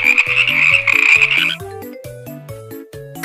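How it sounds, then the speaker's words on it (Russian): Frogs croaking together in a pond chorus, rapid repeated croaks in a bouncing rhythm with a high trilling voice over them early on, close and clear with no talking. "Лягушачий хор поет летом днями напролет."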